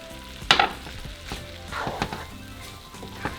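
Charro beans with bacon, sausage and cilantro simmer and sizzle in a pot while being stirred, with a sharp scrape of the spoon near the start and softer stirring bumps after it.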